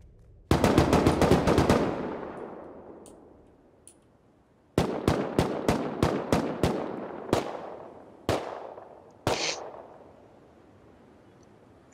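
Gunfire in an online shooter video game: a loud rapid burst of automatic fire, then a string of evenly spaced single shots and a few later cracks, with no voices.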